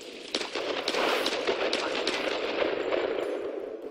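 Rapid bursts of gunfire from the video game Tomb Raider rattle on continuously, loud and dense for the whole stretch with no voices over them.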